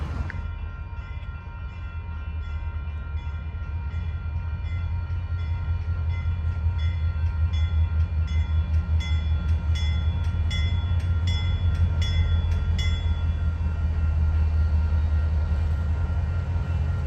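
A freight train of oil cars on the Salt Lake, Garfield and Western line rumbles past steadily, a loud continuous low roll with wheel and rail squeal tones rising midway, no talking.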